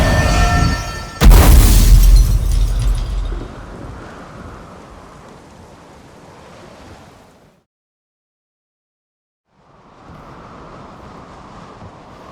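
Thunderstorm in The Witcher 3: a loud crack and rumbling boom of thunder over steady rain, fading to a quiet patter, a short silence, then soft rain returning.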